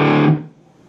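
An electric guitar played through a Blackstar amp with a DigiTech RP1000, turned wide open, rings out in a loud distorted chord that quickly decays to a faint hum.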